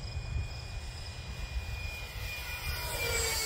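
A Freewing MiG-15 RC jet with a 64mm electric ducted fan makes a steady whining pass down a runway, a sustained high tone that swells slightly toward the end, with no talk.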